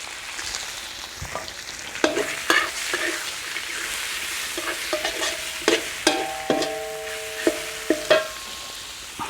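Shrimp hit hot reused oil with pounded garlic and coriander root, stir-fried in a pan: a steady sizzle broken by repeated loud scraping clatters of the spatula, close and with no talking.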